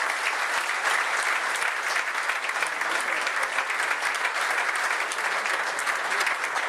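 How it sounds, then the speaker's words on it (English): A dinner audience applauds in a sustained, dense wash of clapping that stays steady and fairly loud from start to finish, with no pauses or voices standing out. "I hope you give him a round of applause"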